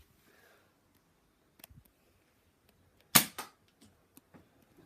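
A Nerf toy blaster fires a dart with one sharp, close snap, followed by a softer second click and a few faint mechanical ticks in an otherwise quiet room.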